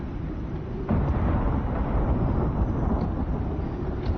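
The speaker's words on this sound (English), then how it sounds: "there was a thunderstorm outside, so I can't tell if it's inside or outside" Low rumbling thunder from a thunderstorm in the survival game Icarus, a sudden swell near the start that holds as a broad, muffled roll over several seconds, with no talk.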